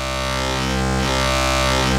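Sustained, buzzing, harmonically rich tone from an Arturia Pigments wavetable synth whose timbre shifts audibly as the wavetable position knob is turned. Loud and continuous, with no talking.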